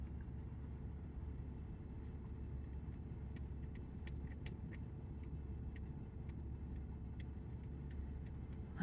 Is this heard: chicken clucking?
no